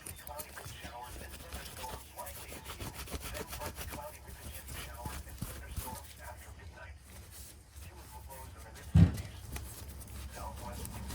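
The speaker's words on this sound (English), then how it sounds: "Get the 400 grit to sand that edge down." A Buck knife edge is sanded with 400 grit sandpaper: a soft, continuous rasping scrape close by, steady throughout with one brief knock near the end, under quiet talking.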